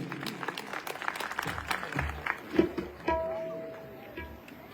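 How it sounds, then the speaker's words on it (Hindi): Applause from an awards ceremony audience, honouring Dr. Balbir Sharma, a dense run of claps that swells, peaks and then trails off, with a sustained tone from the sound system at the end. "जरा जोरदार तालियां एक बार डॉक्टर बलबीर शर्मा जी के लिए प्लीज"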